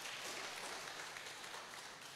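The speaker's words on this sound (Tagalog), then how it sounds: "Bigyan natin ng malakas na palakpak ang Panginoon." Steady, dense applause from a church congregation during a Sunday morning worship service, continuous broadband clapping at an even level for a couple of seconds with no talk over it.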